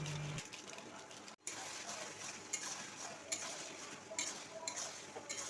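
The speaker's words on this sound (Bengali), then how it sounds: "গরম মশলার গুঁড়ো দিয়ে ভালো করে মিশিয়ে নিচ্ছি" A spoon stirs garam masala powder into a pan of chicken bhuna, giving close scraping and clinking against the pot over a steady sizzling background, with a few sharper knocks.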